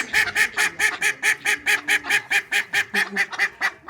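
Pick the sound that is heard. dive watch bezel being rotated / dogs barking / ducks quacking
ducks quacking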